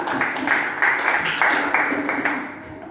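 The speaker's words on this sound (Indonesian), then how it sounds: "Tepuk tangan." A classroom group claps together in a steady rhythmic pattern of rapid bursts, fairly loud and close, fading out at the end.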